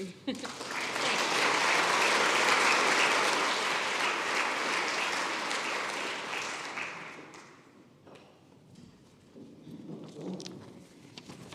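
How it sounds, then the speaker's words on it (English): Audience applause fills a room at an International Women's Day breakfast, a loud, dense wash of many hands that swells, holds for several seconds, then fades to scattered claps near the end. "Oh, I was clapping and nearly forgot I was emceeing."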